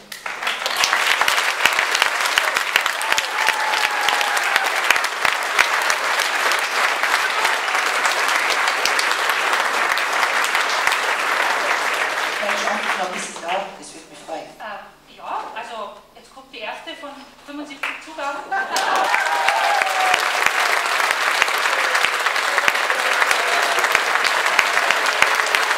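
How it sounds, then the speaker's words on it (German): A crowd applauds after a concert in Leutasch, loud sustained clapping that fills the space, dips for several seconds while a voice speaks, then swells back to full, dense applause. "Applaus."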